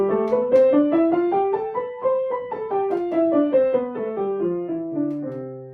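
Clean piano notes rise up the keys in an even scale and then descend back down, played smoothly in a steady rhythm with no talking.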